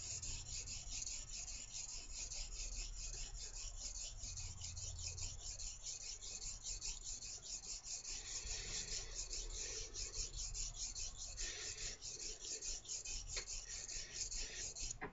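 A blade is sharpened on synthetic stones, a continuous close rasping scrape of steel stroking back and forth, steady and fairly quiet with no speech.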